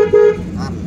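A car horn gives two short, loud toots close by while the car drives through city traffic, with a low engine hum beneath.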